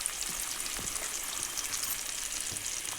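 Tomato pieces frying in a pan for carrot curry give a loud, continuous hissing sizzle with faint crackles throughout, close and alone without any voices.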